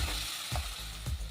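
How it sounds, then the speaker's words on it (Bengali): Onion and garlic fry in ghee with spices in a pan, a close steady sizzle broken by two brief stirring scrapes. "এবার পেঁয়াজটা একটু ভালো করে ভেজে নেব।"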